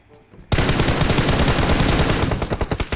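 Gunfire in a video game: a sudden loud burst of rapid automatic shots that starts after a brief quiet moment and continues densely to the end, very close.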